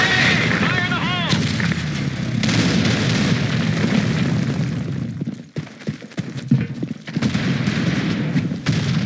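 Grenade explosions in a first-person shooter video game, a dense, loud barrage of booming blasts and gunfire that runs almost without a break, with a shouting voice near the start.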